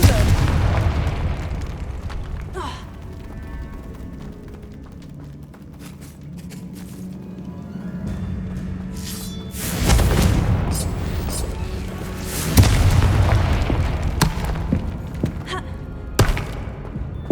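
A Confringo fire spell explodes in the Hogwarts Legacy video game, giving loud booming blasts and thuds over a dense, rumbling game soundscape with sharp bursts near the middle and end. A character's voice is heard in the game.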